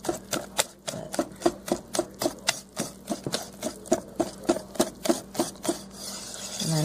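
Pancake batter whisked in a bowl to break up lumps, a quick steady rhythm of around twenty scraping, tapping strokes, close and clear, with no talking.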